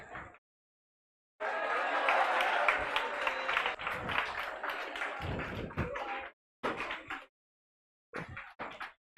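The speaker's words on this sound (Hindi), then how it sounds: "मतलब से अगर ताली बजाता है तो कोई मतलब निकलता, और बेमतलब अगर ताली बजाते हैं" An audience at a physics lecture on electromagnetic waves breaks into a long burst of clapping, fairly faint and roomy, then a few shorter scattered bursts of applause follow after brief pauses.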